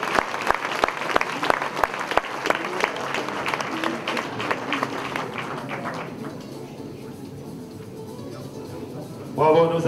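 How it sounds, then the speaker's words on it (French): An audience at a 2014 sports trophy ceremony in Moissac applauds athletes with loud rhythmic clapping that gradually thins out, while voices talk over the fading claps. "On les applaudit bien fort."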